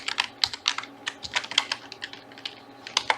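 Keystrokes on a computer keyboard while entering text and hashtags, a steady run of close, crisp clicks with brief pauses, heard alone without any talking.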